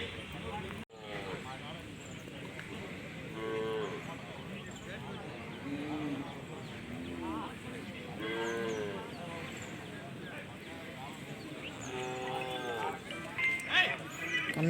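Cattle at the Palayakottai cattle market moo repeatedly, the low drawn-out calls rising over crowd noise and nearby talking.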